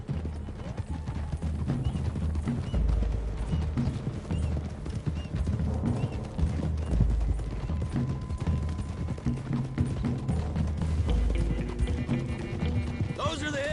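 Horses trotting in the Red Dead Redemption 2 video game give a steady, continuous clip-clop of hooves, with the busy game soundscape filling in around them throughout.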